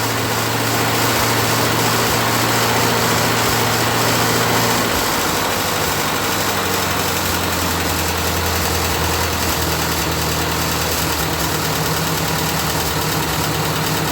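A 1941 Ford 9N tractor engine idles steadily with a loud, rough, chugging drone, close up, its pitch shifting slightly partway through, no voices.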